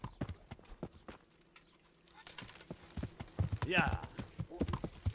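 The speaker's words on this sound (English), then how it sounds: "So we might have to get the horse." Horse hooves clip-clopping in the medieval video game Kingdom Come Deliverance, a steady run of close, distinct hoof hits with a brief voice and some talk over them.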